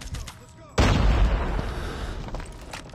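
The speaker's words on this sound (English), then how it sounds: "Airstrike is ready." An airstrike in a battle royale game lands as a sudden loud, close boom with a rumbling decay lasting a couple of seconds, preceded by faint game sounds.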